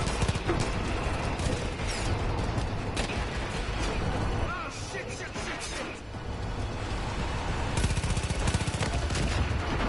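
Rapid gunfire rattles through a Far Cry 5 countryside shootout during a vehicle getaway, with dense bursts of automatic shots layered over engine and mechanical noise, loud and sustained for the whole stretch.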